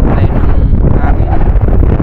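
Strong wind buffets the microphone outdoors on a boat trip hunting snakehead with an airgun, a loud continuous low roar that fills the whole stretch.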